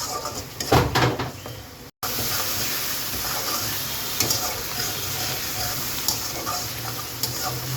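Shrimp frying in a pan for a Bengali stir-fry with tender vegetable stalks, a steady close crackling sizzle with stirring clatter near the start and a brief dropout.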